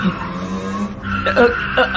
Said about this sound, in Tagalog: Pumutok yata yung gulong sa likod eh.